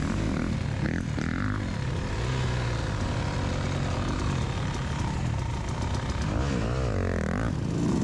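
A Beta Xtrainer 300 dirt bike engine drones loud and close throughout as the rider pulls away on a hare scramble trail, with revs rising and falling while the bike works free.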